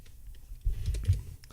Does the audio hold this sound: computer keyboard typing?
yes